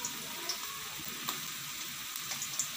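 Two medium onions frying in hot oil for a pethay ka salan (ash gourd curry), a steady faint crackling sizzle with a few soft clicks, no talking.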